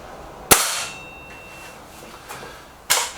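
An SMK Model 19 Supergrade air rifle, a springer near the 4 ft-lb limit, fires two sharp close shots a couple of seconds apart, each a crisp crack with a short decaying tail, with faint mechanical handling between.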